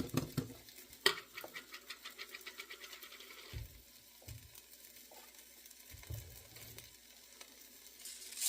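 Garlic and lamb sizzle quietly in a Moroccan tagine, a soft crackling hiss broken by a few clinks and scrapes of stirring, faint and close with no talking.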